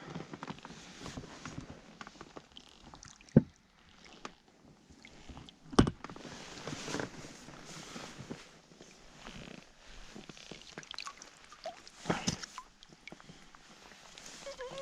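A small boat paddled across calm water toward a distant fishing float set for pike with live bait, on an evening outing. Soft, irregular splashes and knocks recur throughout, with a few sharper clunks and no talk.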